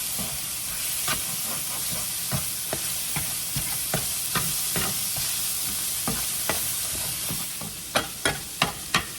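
Sausage with butter frying in a pan gives a steady close sizzle, with regular sharp clicks or taps and a few louder knocks near the end.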